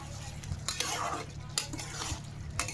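A spoon scrapes and clinks against a pan while chilli chicken in sauce is stirred, soft irregular scraping strokes close by over a low steady hum.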